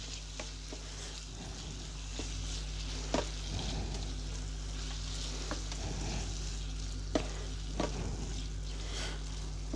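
Taco filling of corn and cooking cream in a pan, sizzling softly and steadily with occasional stirring scrapes and clinks of a utensil against the pan.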